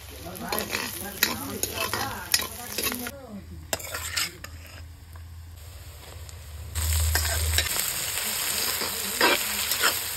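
Goat meat fries in a pot over an open fire with salt, turmeric, chilli, ginger and garlic paste, a steady close sizzle broken by repeated scraping and clinking stirs of a metal spoon.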